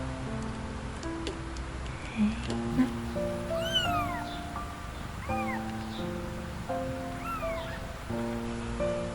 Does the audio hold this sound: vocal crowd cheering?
no